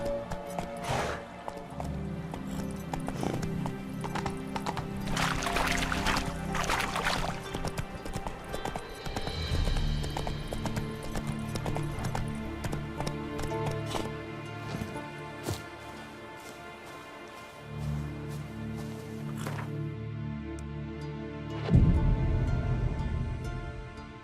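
A horse gallops in the video game The Witcher 3, a continuous rhythm of hoofbeats under layered game music and ambience, with a snort or whinny near the end.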